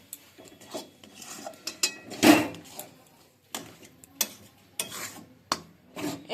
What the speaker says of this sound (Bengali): গ্যাসের আঁচ মিডিয়ামে রেখে এইভাবে এটা মিশিয়ে নিতে হবে।